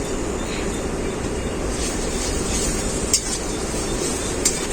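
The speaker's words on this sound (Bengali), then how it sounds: "এখন দিয়ে দেবো আদা বাটা" Ginger paste fries in a pan for a desi chicken curry, a steady sizzling hiss with occasional light clicks of a spoon stirring.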